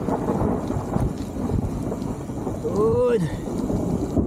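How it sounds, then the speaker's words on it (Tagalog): Heavy rain pours on Mount Timbak while a long thunder rumble swells and fades in the distance, and a voice speaks briefly over the storm. "Oh, lakas ng ulan, oh."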